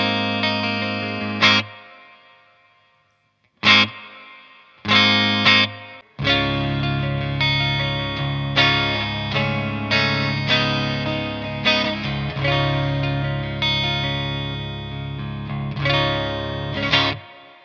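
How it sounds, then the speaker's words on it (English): Electric guitar played through the clean channel of a BluGuitar Amp 1 Iridium with reverb switched on: a few separate strummed chords with gaps, then steady ringing chords and notes, close and clear with no voices. "Of course, we can add some nice reverb as well with this switch."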